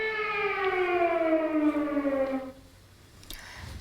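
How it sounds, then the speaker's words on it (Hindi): An air raid siren in Ukraine wails loudly for about two and a half seconds with a slowly falling pitch, then cuts off into quiet background noise. "यूक्रेन के अलग अलग शहरों में जहां लगातार सायरन बज रहे हैं"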